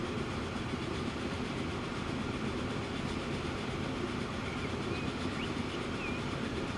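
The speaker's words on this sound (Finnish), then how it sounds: "Ollaan tällä kertaa tällaisen junan kyydissä." Steady, dense rumble from inside a moving passenger train, a constant rolling roar with faint rail clatter and no break for the whole stretch, heard alone without voices.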